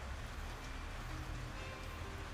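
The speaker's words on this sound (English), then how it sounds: "You just got a bit of rain coming in, as you can probably hear" Light rain falling outdoors during wood carving as stormy weather rolls in, a steady soft broadband patter and hiss that stays faint and even throughout with no voices.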